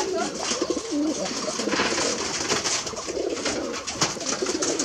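Deshi Giribaj pigeons on a farm coo again and again in soft, overlapping murmurs, close and continuous without a pause.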